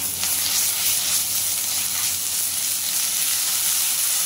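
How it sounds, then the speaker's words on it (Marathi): Ginger-garlic paste sautéing in oil over a low flame, a steady close sizzle with bright hiss that holds evenly throughout, no voices. "आलं लसूण वास निघेपर्यंत आपल्याला परतून घ्यायचं"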